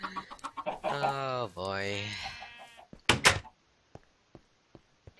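Minecraft chickens cluck in a few short bursts amid game sounds, including a door-like knock and scattered clicks, with someone briefly speaking.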